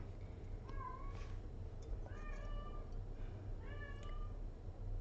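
A tuxedo cat meows three times at even intervals, each call a clear, rising-then-falling mew at moderate distance over a steady low background hum.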